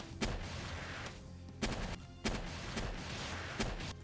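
Jet Dragon firing missiles in Palworld: four sharp, loud explosive blasts spaced unevenly over a few seconds, each trailing into a rumbling decay over continuous game ambience.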